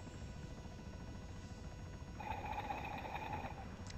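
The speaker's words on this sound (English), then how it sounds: "Since the rotors are pointed forward, the helicopter will continue to fly forward." A CH-67 Huron helicopter in flight in the video game ARMA 3, a steady low rotor drone with a whining tone rising partway through, and no talk.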